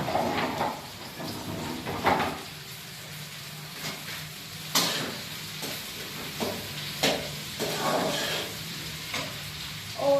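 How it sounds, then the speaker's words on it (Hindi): Okra (bhindi) fries in a pan with a steady low sizzle broken by repeated sharp scrapes and knocks of a spatula stirring, heard close with no talking. "यहाँ पर जी हो रही है भिंडी फ्राई।"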